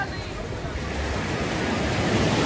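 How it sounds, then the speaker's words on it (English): Strong ocean waves at a beach in Nassau, Bahamas, a loud continuous roar of surf and wash with wind buffeting the microphone and no clear pauses. "them waves are pretty strong"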